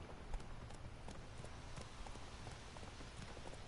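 Roach, Geralt's horse in the video game Witcher 3, gallops with a steady, quiet clip-clop of hooves. A faint rain-like hiss runs underneath.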